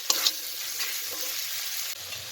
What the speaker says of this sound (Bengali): মশলাটা কষে নিই